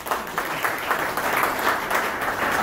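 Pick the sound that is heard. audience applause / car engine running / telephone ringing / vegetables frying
audience applause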